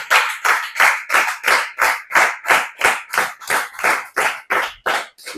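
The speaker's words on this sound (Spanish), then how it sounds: "Cuando le dan aplausos y alabanzas al Todopoderoso." A church congregation claps in steady unison during worship praise, a loud, regular rhythm of about three claps per second continuing throughout with no talking.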